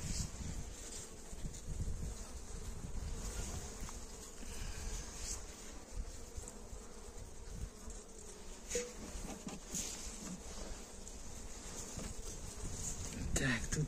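Honey bees buzz around beehive frames in a steady, faint, close drone, with someone speaking quietly now and then over the hum.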